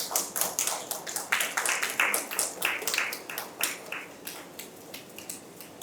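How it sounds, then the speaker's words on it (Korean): Audience applause at an academic conference on the independence movement, a steady burst of many hands clapping in a hall, fairly loud and continuous for several seconds before thinning out, no talk over it. "큰 박수 부탁드립니다."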